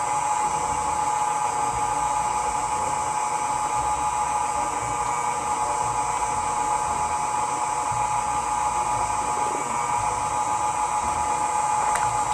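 An electric mixer whirs steadily and loudly, beating banana bread batter as dry mixture is added, a continuous high motor whine holding unchanged throughout with no one talking.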